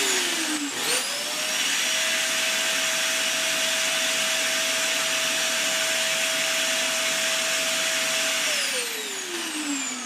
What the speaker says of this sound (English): let's see how much power my vacuum uses